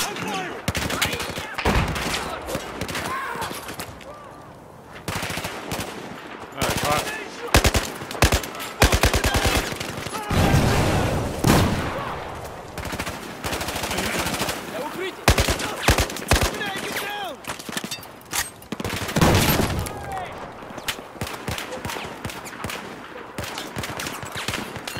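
Automatic gunfire in the video game Battlefield 4, with dense, sustained bursts and single sharp shots throughout, close and loud. Players' voices come through in places under the shooting.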